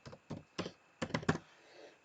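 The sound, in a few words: typing on a computer keyboard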